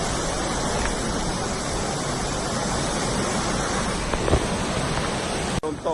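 A waterfall in Houaphanh Province, Laos, produces a continuous, dense rushing roar heard up close, steady and loud throughout with a faint knock near the end.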